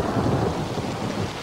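A thunderstorm with heavy rain hissing steadily and a low rumble of thunder rolling underneath, loud and continuous throughout.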